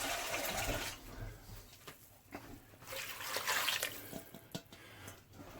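Water pours into a pressure cooker over spices such as paprika and coriander for a curry base gravy, a steady rushing splash that fades and returns in uneven surges.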